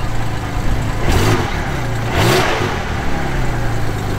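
Parked Porsche 911 GT2 of the 996 generation with a 3.6-litre engine, blipped twice in quick succession; the two short throttle rises swell over a steady close idle, with no talk.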